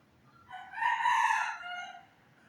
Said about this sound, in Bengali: ওই তো আমার মোরগটা ডাকছে বাহিরে